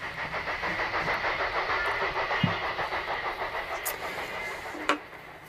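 A train leaves a station, rolling along with a rhythmic clickety-clack and steady mechanical rumble, a couple of sharp metallic squeals cutting through.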